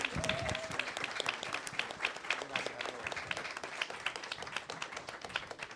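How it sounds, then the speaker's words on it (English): Audience at a panel discussion gives a congresswoman a round of applause, dense sharp clapping from many hands sustained throughout, with a brief voice near the start. "Can we just give a big round of applause for Congressman Escobar?"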